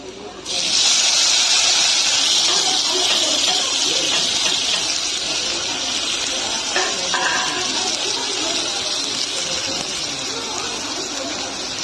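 Tomatoes hit hot fried onion and garlic in a pan for an egg chutney, setting off a loud, steady sizzle and hiss that continues close and unbroken throughout.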